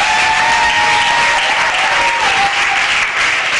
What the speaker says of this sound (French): Klatsch für den Herrn.